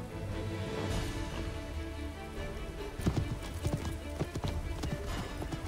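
Horse hooves clip-clop in a chase in the video game Assassin's Creed III, a quick, uneven run of hoofbeats that grows busier and more insistent midway, set against a low game soundscape.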